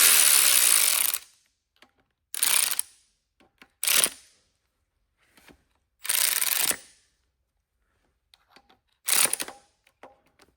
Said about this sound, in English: And then we can put them down with the ratchet.